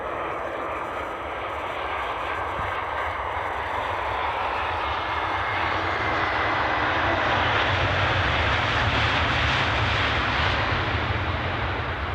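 An airplane at Edinburgh Airport roars with a broad, steady engine rumble that swells slightly louder as it goes on, heard from a moderate distance with no talking.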